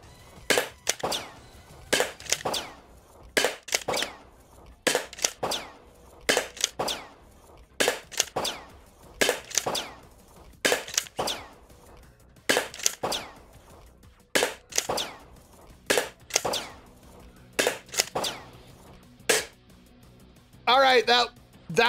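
A Coathanger toy dart blaster fires darts repeatedly, each shot a sharp, close crack with a short rattle, spaced about a second or two apart in a steady run, with a voice briefly heard at the end.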